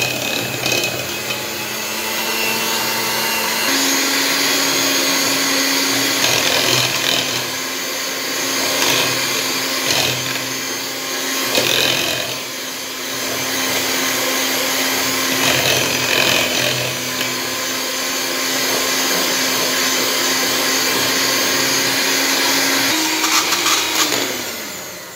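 An electric mixer whisks half a kilo of cake premix batter with a loud, steady motorized whir whose pitch shifts slightly as the beaters move through the bowl, running nearly the whole time.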